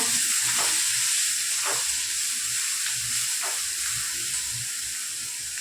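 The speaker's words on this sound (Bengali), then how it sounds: "তেলের মধ্যে সামান্য হলুদ দিলাম, মাছটা ভেজে নিচ্ছি।" Prawns frying in oil with turmeric give a close, continuous loud sizzle with a few brief stirring or shifting bursts through it.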